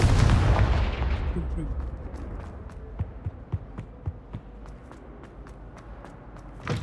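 A Confringo fire spell in Hogwarts Legacy bursts loudly at the start, its blast fading into a string of sharp crackling pops and small impacts that sound moderately close.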